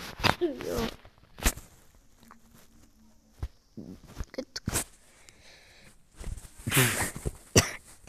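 A person coughs several times in sharp, separate bursts spread across a quiet room, with some throat clearing and soft game sounds in between.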